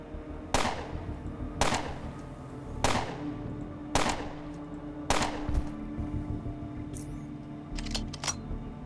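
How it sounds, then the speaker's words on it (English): Pistol fired in the video game Underrail, five sharp reports spaced about a second apart, each with a short decaying tail, followed by a couple of softer clicks and clatter. "we'll go ahead and take this guy out with our normal pistol"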